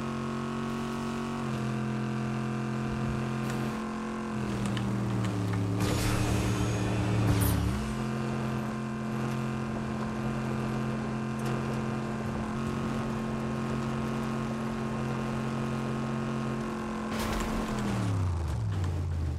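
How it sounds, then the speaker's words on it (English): A car driving in Fortnite, its engine a steady droning hum with pitch rising and falling as it shifts and accelerates, loud and continuous for the whole stretch with no talk. "There's also a car on the other side of the lake."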